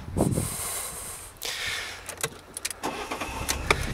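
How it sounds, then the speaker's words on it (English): A 2013 Fiat 500 1.2 petrol car cranks and catches with a short starter whir, then settles into a quiet idle, heard close with some clicks and handling noises. "So what I'll do now is I'll just start the car for you so you can hear it running."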